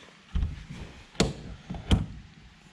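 The cabin door of a Zenith 750 Cruzer light aircraft is locked and unlocked, producing a few close, sharp metallic clunks and clicks spaced about half a second apart over quiet background.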